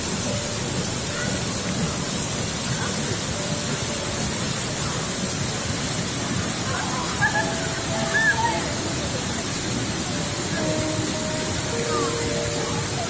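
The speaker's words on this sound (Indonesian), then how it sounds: "air terjunnya indah ya" Waterfall at Davesta in Curup, a steady broadband roar of falling and splashing water filling the whole stretch, with faint voices in the background.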